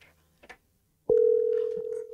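A telephone line for a call-in segment gives a couple of faint clicks, then a steady, loud dial tone that starts abruptly and holds for about a second, with no voices.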